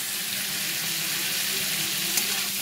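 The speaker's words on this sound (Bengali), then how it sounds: "এবার পটলটা ভেজে নিই" Pieces of pointed gourd (potol) fry in oil in a pan, producing a continuous, even sizzle at close range with no talking.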